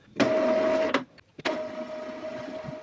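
An Epson inkjet printer running a head cleaning whirs mechanically in two bursts with a brief pause between, a steady motor hum and clicks close by.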